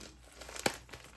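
Plastic packaging on a survival cache belt kit crinkles and tears softly close by, with one sharp rip partway through. A steady background hiss sits under it.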